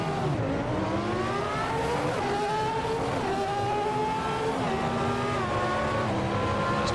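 A Ferrari F310 Formula One car in Assetto Corsa, pulling away at Catalunya. Its engine howls loud and close as it climbs through rising revs, with several quick gear shifts dropping the pitch before it climbs again.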